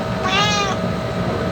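Echo, a pet cat, lets out a single drawn-out meow near the start, clear and close, with a quiet room murmur continuing underneath and afterward.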